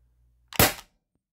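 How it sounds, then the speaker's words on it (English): An Umarex HDP 50 compact pistol firing a steel ball bearing in a basement: one sharp, loud, close pop with a brief decaying tail, alone. "Okay, shot 1, steel ball bearings. HDP compact."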